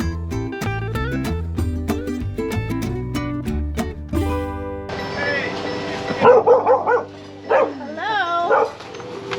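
Dogs bark and yip in short bursts at a lakeside dog beach in a provincial park, some barks close and loud, after music and over scattered talk.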